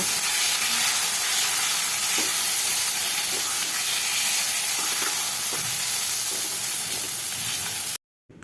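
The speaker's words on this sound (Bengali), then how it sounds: "আরও এক থেকে দেড় মিনিট আমি মিডিয়াম ফ্লেমে মশলাটাকে আরেকটুখানি কষিয়ে নেব" Masala spices fry steadily in hot oil over a medium flame for a jackfruit kofta curry, giving a continuous close sizzling hiss with faint stirring scrapes before an abrupt cutoff.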